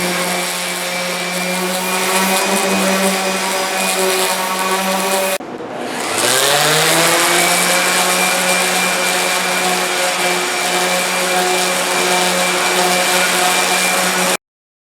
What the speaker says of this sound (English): I'm sanding both of them down